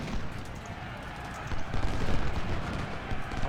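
Musket volleys crackle in a Civil War strategy game, dense overlapping reports rolling continuously and building slightly louder toward the end, with no voices over them.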